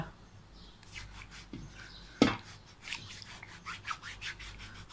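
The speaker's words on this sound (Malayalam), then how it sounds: "നന്നായിട്ട് എല്ലായിടത്തും ഉരച്ചു കൊടുക്കുക" Feet are scrubbed and rubbed at home with a gritty scraping stroke, repeated rasping passes in an uneven rhythm, close and fairly soft, with one sharp knock partway through.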